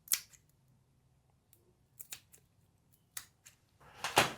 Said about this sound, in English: And then you make 2 snips that divide the tape into thirds.